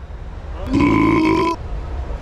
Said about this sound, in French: J'ai pas dit pardon, j'ai roté comme un gros dégueulasse.